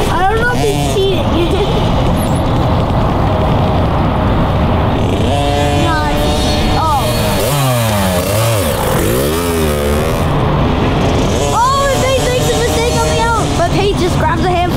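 A dirt bike engine revs hard under throttle during a race, with rising and falling whining pitch sweeps over a constant loud roar, other bikes nearby and commentary talk layered on top.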